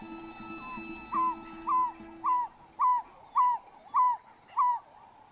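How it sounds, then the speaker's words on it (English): African barred owlet calling from among tree leaves, seven evenly spaced soft hoots about 0.6 seconds apart, clear and moderately close over a quiet background hiss. "the African barred owlet is one of Africa's tiniest owls"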